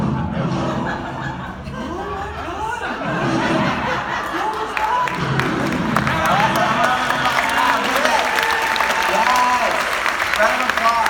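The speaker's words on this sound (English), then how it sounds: "Round of applause" Applause from a conference audience after a short talk at a testing event, a dense sustained clatter of clapping mixed with scattered laughter and chuckles, rising slightly toward the end.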